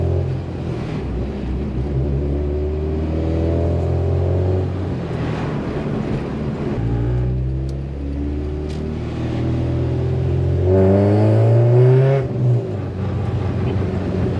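All-motor Honda Civic VTEC with a B16 engine revving while being driven, engine note rising and falling through gear changes, loud and close from inside the car, with a strong climb near the end.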